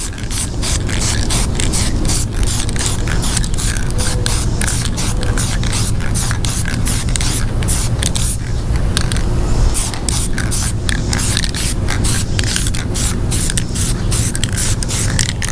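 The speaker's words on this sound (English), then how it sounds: "Now we're gonna put a guide coat on it, some flat black spray paint" Flat black spray paint hisses steadily from an aerosol can as a guide coat on a custom rear speaker deck for a 1979 Chevrolet, a loud continuous close-up spray with brief flutters as the nozzle moves.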